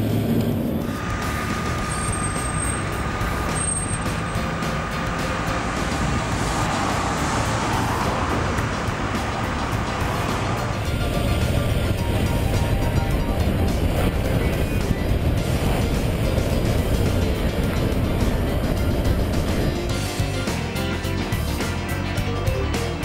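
A 1968 Chevrolet Camaro with a performance upgrade on a test drive, its engine and road noise droning steadily and fairly loud from within the car for the whole stretch, with no talk.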